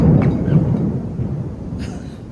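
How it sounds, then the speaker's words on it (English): Low thunder rumbles outdoors as a storm brews, a loud, rolling boom that fades gradually over a couple of seconds with no talk over it. "Did y'all just hear that thunder?"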